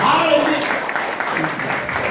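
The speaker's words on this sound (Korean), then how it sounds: "이 박수 치셔야 돼요" Audience applause at a lecture: steady, dense clapping from a crowd that fills the room at a strong, even level for the whole stretch, with a voice mixed in underneath.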